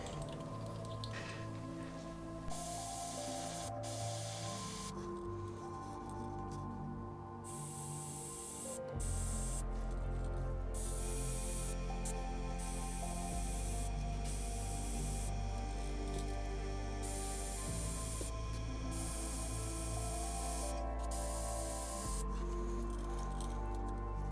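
An airbrush sprays paint onto a Spook topwater fishing lure, a continuous close hiss in long bursts broken by short pauses, with no talking.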